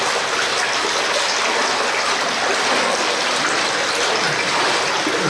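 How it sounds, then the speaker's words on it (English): A stream rushes steadily somewhere below, several feet down near the old mine workings at Anyox and Kitsault, making a loud, unbroken wash of flowing water with no pauses and no voices. "We're hearing a lot of water on the bottom, quite a few feet under where he made it."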